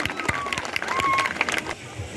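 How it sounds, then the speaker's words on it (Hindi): Hand clapping from an outdoor crowd at a police cycle rally welcome ceremony in Mohammadpur, a dense, steady patter of many hands lasting the whole moment with some background voices. "भाई ताली लगा दो एक बार नारी शक्ति के लिए"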